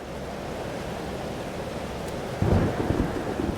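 Steady rain and rolling thunder from a storm over a coastal town in the video game Life is Strange, a continuous wash of rain noise with a louder low rumble swelling near the end, no voices.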